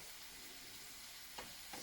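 Vegetables for a beet salad sauté in a frying pan in a home kitchen, a steady soft sizzle and hiss with a couple of brief clinks or stirs near the end, fairly quiet and alone.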